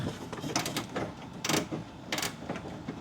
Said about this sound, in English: So I'm gonna stick my ratcheting wrench up in there.